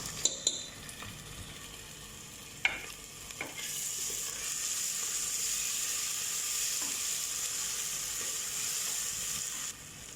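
Onions fry in a pan with ginger garlic paste for masala khichdi. A few sharp utensil clinks from stirring give way to a steady, soft sizzle, heard close with no voices.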